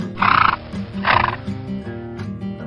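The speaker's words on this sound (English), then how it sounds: "horse." A horse neighs twice in quick, loud whinnies, with a fainter third call trailing off, all close and without any talk.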